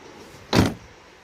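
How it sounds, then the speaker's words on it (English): A Chevy S10 pickup door slams shut in a junkyard with one short, solid thump over quiet background. "Door shuts good."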